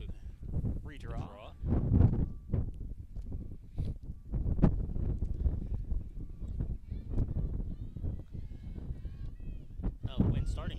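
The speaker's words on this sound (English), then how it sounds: "Now the wind's starting to change direction a little bit." Wind gusting across an outdoor women's lacrosse field rumbles and buffets the microphone in uneven low bursts, with commentators talking throughout.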